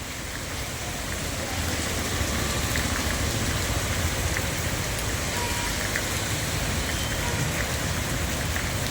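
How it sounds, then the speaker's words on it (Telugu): Steady rain pours down, hissing and pattering on a main road beside the divider at constant strength, with a faint low rumble of traffic underneath. "డివైడర్ పక్కన ఏ విధంగా వర్షం అనేది కురుస్తున్నది మనం గమనించవచ్చు"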